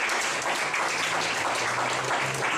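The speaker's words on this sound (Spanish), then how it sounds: "denle un buen aplauso a nuestro Padre" Congregation at a healing service claps in a brief, continuous burst of applause, even and fairly soft, with no pause across the short stretch.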